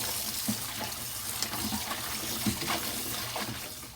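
Ginger root rinsed under a running kitchen tap, a steady close splash of water with small bursts as the root is turned and rubbed in the stream.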